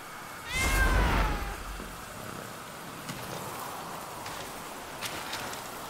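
A single drawn-out cat meow in the video game Blacktail rises and falls near the start, followed by quiet rustling and a few faint clicks.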